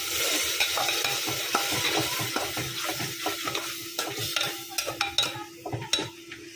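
A turmeric-spiced masala fries in oil in a pot for a traditional Khandeshi dal dish. Steady sizzling runs under repeated scraping stirs, and the spoon clinks against the pot more often toward the end.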